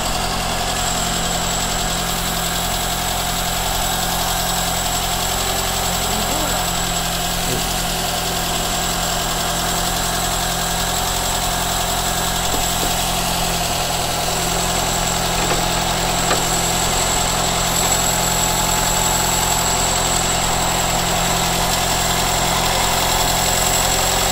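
A carbureted engine with a freshly fitted new belt runs steadily at idle for the whole stretch, a close, even mechanical hum with light vibration and no talking over it.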